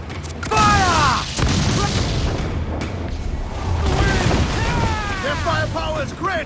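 Ship cannons firing in the naval combat of Assassin's Creed IV Black Flag, booming blasts at the start and middle of the clip under shouted crew commands, with a steady roar of battle noise throughout.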